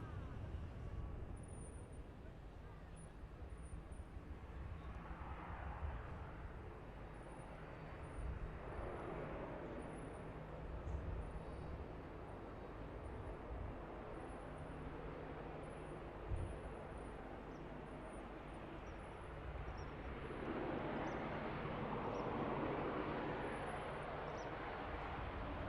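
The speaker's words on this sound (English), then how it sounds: "What a takeoff." An airliner takes off at Manchester Airport as a distant, faint, broad jet roar that swells and fades over about half a minute, with low background traffic rumble.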